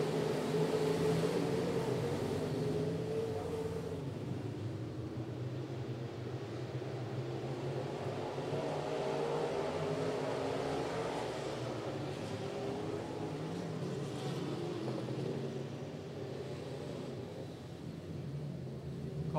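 Modified race cars at Potomac Speedway, a dirt oval, produce a steady, loud engine roar that fills the whole stretch, with a broad continuous drone and no talk.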